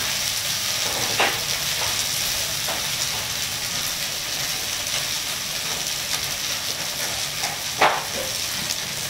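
Pad see ew stir-fried dry in a hot wok, a steady soft sizzle and crackle at close range with a few sharp scrapes of the spatula against the pan, no talking.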